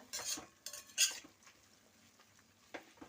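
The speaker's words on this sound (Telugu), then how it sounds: "పెసరపప్పు మొత్తం వేసేసుకుని ఇప్పుడు కలుపుకుంటున్నానండి" A spoon stirs soaked moong dal into amaranth leaves in a pan, giving a few close scraping, clinking strokes in short bursts with quieter gaps, no talking.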